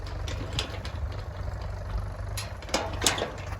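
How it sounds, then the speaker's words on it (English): A Fordson Major tractor engine runs at a steady idle outdoors on a farm with a trailer and cows nearby, a low throbbing drone with a few sharper clanks and knocks. "So we got a Fordson Major tractor"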